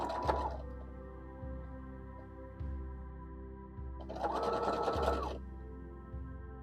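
Sewing machine slowly stitching around the edge of an appliqué, quiet close mechanical hum with a few short bursts of faster stitching, no talk.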